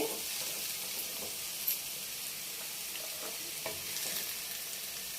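Ash gourd frying in ghee for halwa, a soft, even sizzle with faint hiss, lightly punctuated by a few quiet spoon taps and stirs.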